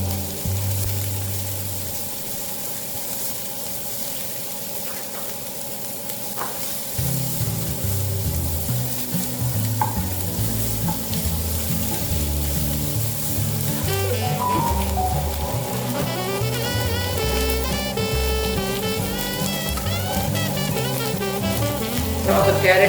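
Ginger garlic paste sizzles steadily in oil in a frying pan while being stirred, a continuous crackling frying sound running throughout with occasional scraping, no voices heard.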